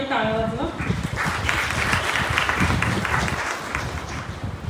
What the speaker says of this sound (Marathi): कृपया सर्वांनी टाळ्या वाजवा.